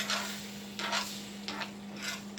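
Shrimp hit a hot hibachi pan and fry with a soft hissing sizzle, broken by a few brief scraping bursts at a steady, moderate level, with no voices.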